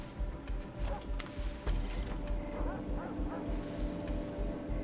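Dogs bark and yip in the video game Far Cry 3, several short barks scattered over a dense game soundscape with background music and ambience.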